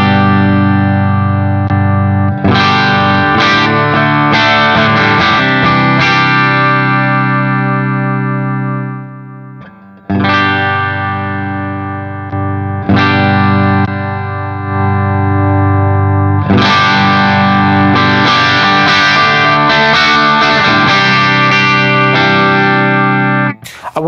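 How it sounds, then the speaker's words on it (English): An electric guitar runs through a G-Lab Rebel Adrenaline Booster pedal, thick boosted chords and strums ringing loud and sustained, with a brief drop near the middle before heavy strumming returns. "Then moving on to the adrenaline booster, which, as the name suggests,"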